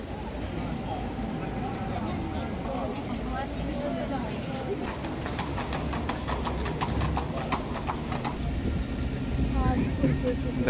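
Hooves of a horse-drawn carriage clip-clop in a steady rhythm on a hard street in Vienna, Austria, with people talking and traffic noise around.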